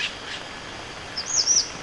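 Birds in a national forest recreation area sing a few high, thin chirps and whistles over a soft, steady background hiss. The calls grow clearer toward the end of the short stretch.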